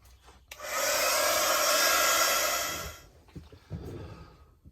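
A heat gun blows steadily for about two and a half seconds, a loud even whooshing roar that starts abruptly and fades out as it switches off, used to dry paint splatters on a mixed media art piece. Quiet handling noises follow.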